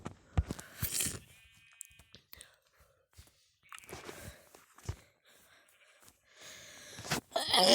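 A person who is ill sneezes in three separate bursts, spaced apart by near-silence with faint breathy noises between them. The last sneeze is the loudest and is close to the microphone.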